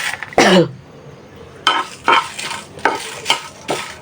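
Dried red chillies are stirred and roasted in a pan for a mashed dried-fish dish, with a sharp scrape, then a series of short rhythmic stirring scrapes and faint sizzling.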